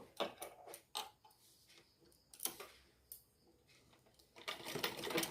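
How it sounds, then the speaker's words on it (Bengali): Sewing machine stitching the fall border onto a sari, heard in short bursts of quiet mechanical ticking that stop and restart, with a longer run near the end. "এই সাইডটা আমরা সেলাই করে নেব"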